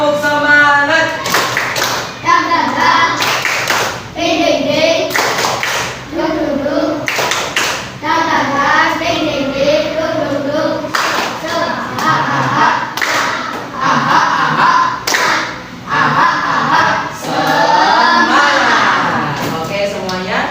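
A class of schoolchildren performs a rhythmic spirit clap, tepuk semangat, loud patterned group clapping in quick sets, broken by chanting voices between the bursts.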